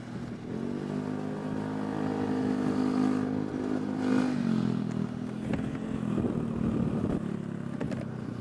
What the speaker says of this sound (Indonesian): Itu motor berisik banget